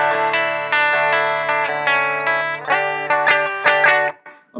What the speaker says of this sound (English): The amp is just starting to distort a little bit.